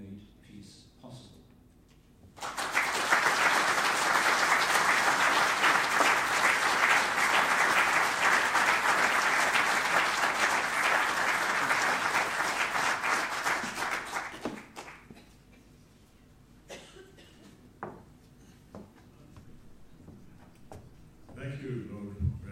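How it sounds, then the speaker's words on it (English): Audience at a 25th anniversary event for South Africa's constitutional transformation breaks into sustained applause honouring FW de Klerk, a dense roomful of clapping lasting about twelve seconds before fading into scattered claps and quiet. "join me in applauding FW de Klerk"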